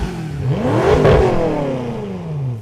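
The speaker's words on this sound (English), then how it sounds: "Let's see what the exhaust in the M5 sounds like." A BMW M5's engine revs hard through its exhaust, rising in pitch to a loud peak and then falling away as the revs drop across a couple of seconds, close and unbroken.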